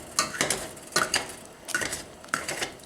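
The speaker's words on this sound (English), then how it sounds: "This is already boiling, so I have to mash it with my potato masher." Freshly picked Humboldt blackberries boiling for organic jam are mashed with a potato masher, giving close, rhythmic clinks and squelchy knocks against the pot in uneven pairs, with no talking.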